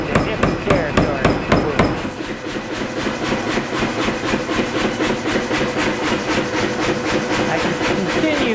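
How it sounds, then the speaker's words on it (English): Hammer forging a Wootz steel integral chef's knife: a quick run of sharp, ringing metal strikes at the start, then a steady, dense train of rhythmic hammer blows, loud and close, continuing without pause. "I can continue forging a little bit further on this."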